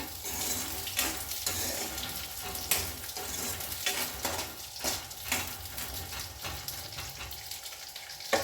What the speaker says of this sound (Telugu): ఇప్పుడు ఈ ఉసిరికాయలు వేసేసుకుందాం ఇందులో సిమ్లోనే పెట్టాను నేను